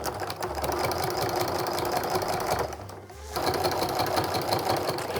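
A sewing machine stitching a charm-pack Christmas stocking runs with a loud, steady mechanical whir, pausing briefly near the middle before resuming at full speed.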